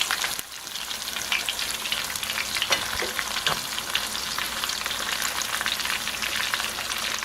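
Turkey cutlets frying in a crowded pan, a steady, loud crackling sizzle that runs unbroken throughout, close by, with a couple of faint knocks partway through.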